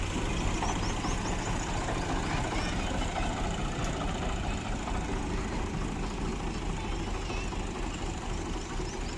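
Tractor trolley loaded with dowry goods rumbling off through a village gate, a steady low engine drone with broadband road noise, fairly loud and unbroken.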